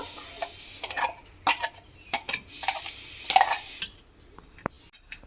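Chili paste is scraped from a mixing jar into a bowl of soaked semolina with close scraping, clinking and tapping of a spoon against the vessels, then the sound trails off into quieter single clicks.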